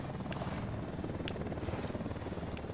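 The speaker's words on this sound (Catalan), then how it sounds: "Helicòpter." A helicopter in the video game Ghost Recon Wildlands, a steady rotor thrum and whine held at moderate level throughout, with a few sharp clicks breaking through.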